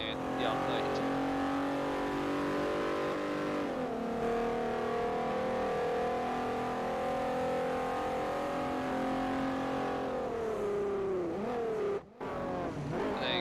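A Honda engine in Forza Motorsport 4 revs hard with a VTEC crossover, giving a loud, sustained high whine that climbs, drops briefly and climbs again over a racing run, with a voice talking over it.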